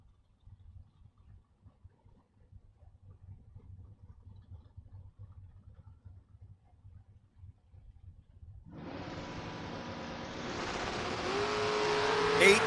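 Door car drag racers launching side by side at a drag strip, a low idle rumble giving way to a sudden loud roar of engines that keeps building as they accelerate away.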